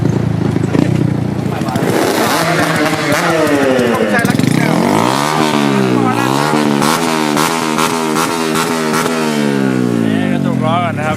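A racing motorcycle started by hand in a workshop, its engine roaring loud and close and revving up and down in repeated sweeping surges, with someone speaking briefly over it.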